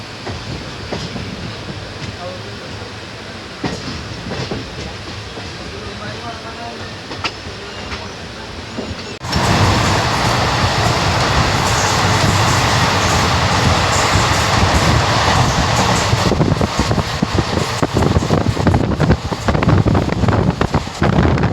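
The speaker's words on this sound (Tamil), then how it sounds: "கிளம்பிடுச்சு ட்ரெயின்" An intercity train pulls away and rolls along the rails, a quieter rumble giving way to a loud, steady roar with wind buffeting and clattering from the carriage.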